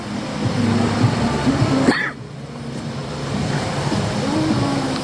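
Water from an outdoor fountain at the Irvine Spectrum Center in Irvine, California splashes steadily and continuously, with a brief muffled dip partway through.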